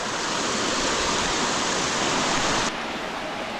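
Kenmere Falls, a waterfall cascade in Tasmania, pours in a dense, loud, continuous hiss of rushing water close by, dropping slightly in level near the end, with no talking.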